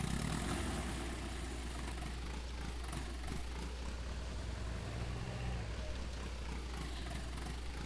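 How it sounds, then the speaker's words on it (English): An old tractor in Farming Simulator 19 runs with a steady, low engine rumble, idling evenly throughout at moderate volume with no talking over it. "Time to see just what our old tractor can do."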